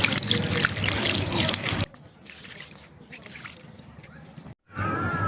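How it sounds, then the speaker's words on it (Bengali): About a mugful of water goes into a cooking pan of spiced fish mixture, a loud splashing pour that stops abruptly and gives way to quieter trickles and handling sounds. "এক মগ পরিমাণে পানি দিয়ে দিলাম।"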